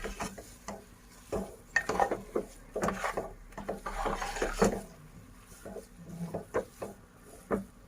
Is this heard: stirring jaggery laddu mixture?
yes